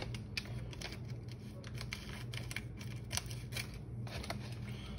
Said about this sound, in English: There we go, found better scissors.